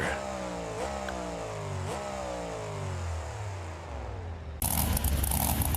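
The Trailmaster monster truck in BeamNG Drive revs its engine through a few rising and falling pulls, the drone sliding steadily down in pitch, before a loud broadband rush of noise cuts in abruptly near the end.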